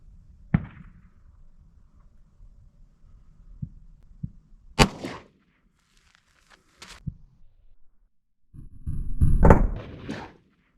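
A .38 Special revolver firing a Federal Punch 120gr +P round into ballistic gel from 15 feet, heard as a few sharp, loud, isolated cracks separated by quiet, ending in a rustling burst of handling noise.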